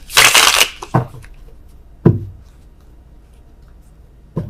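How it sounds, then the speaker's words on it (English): Tarot cards being shuffled by hand: a loud, close riffle burst at the start, followed by a few brief, sharp card taps and slaps separated by quiet pauses. "Oh, worst shuffling in the world."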